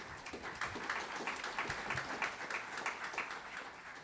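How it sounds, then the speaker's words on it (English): Audience applause at the Lake George Association Lake Protector Summit, in recognition of work to reduce nutrient loading to Lake George. The clapping is quiet and sounds distant, a scattered patter that swells and eases over a few seconds. "yes, absolutely, round of applause for that."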